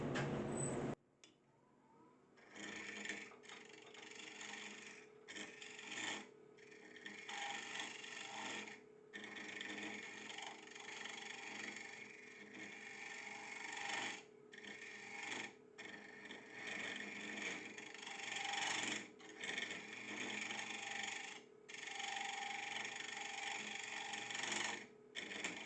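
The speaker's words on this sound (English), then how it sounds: "this is a hollowing tool to hollow out the inside of a bowl or jar in this case." A hollowing tool scrapes and rasps out the inside of a turned wooden egg box, a steady rough grinding that runs close and continuous, broken by short pauses.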